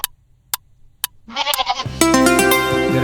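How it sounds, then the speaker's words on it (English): A goat screams in a loud, drawn-out wavering cry that starts after a few sharp clicks and swells into a harsh, strained bleat filling the last half of the clip. "The goat sometimes screams in a way that sounds."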